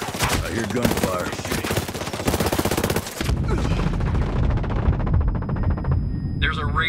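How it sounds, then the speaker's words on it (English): Rapid bursts of automatic gunfire crack loudly and continuously in Ghost Recon Breakpoint, a dense volley that runs for several seconds before giving way to heavier rumbling shots and a faint electronic tone. "I hear gunfire."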